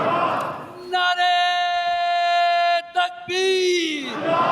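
A large crowd at an Ahmadiyya annual convention (Jalsa Salana Germany) shouts a slogan response in loud unison, with two long sustained chanted calls separated by a brief break.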